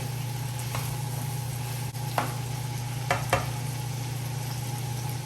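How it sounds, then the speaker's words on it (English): Brown stew fish sizzles and fries steadily in a pot with a constant hiss over a low electrical hum, broken by a few soft scrapes and clicks of a stirring utensil. "Stir it a bit. And let it go on saute, let it go on fry a little."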